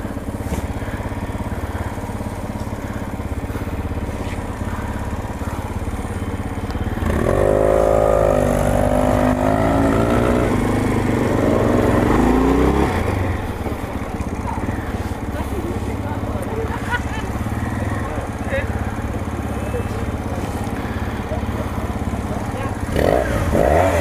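Motorcycles on a biker tour start up and ride off, engines idling and then revving louder for several seconds before settling into a steady running drone, with people talking nearby.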